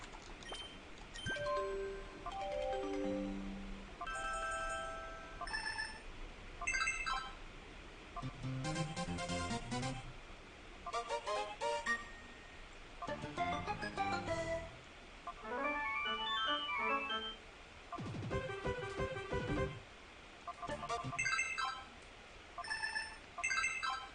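Alert ringtone from the video game Pokemon Colosseum, a series of bright electronic melodic tone phrases that play repeatedly across the span, clear and fairly loud with short pauses between phrases.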